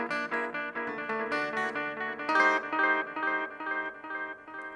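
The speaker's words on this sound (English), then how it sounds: "By contrast, we have the digital delay pedal" An electric guitar plays a short melodic phrase through a digital delay pedal, notes repeating and smearing into each other, fairly quiet and alone.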